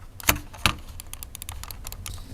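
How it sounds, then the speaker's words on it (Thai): A NUBWO silent computer mouse gives soft, muted button clicks, two sharper taps early on and then a quick run of light clicks, close and quiet with no talking. "มันคลิกเงียบจริงๆนะสำหรับเมาส์รุ่นนี้นะ"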